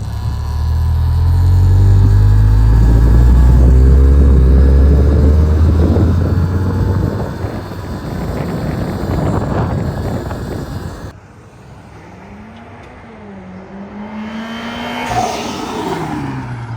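A Gen 2 GR86/BRZ fitted with an HKS turbo kit pulls hard, its engine roaring loud and close as revs climb. The engine then drops to a quieter, rising drone.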